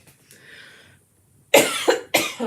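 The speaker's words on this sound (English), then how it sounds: "I may go into coughing fit." A person coughs in three sharp, loud bursts close up after a faint throaty rasp, with short pauses between the hacks.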